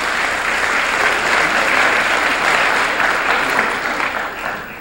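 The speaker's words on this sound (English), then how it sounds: "I think you should give our dean and our School of Communications a round of applause" Audience at a university lecture breaking into loud, sustained applause, dense clapping from many hands throughout the few seconds.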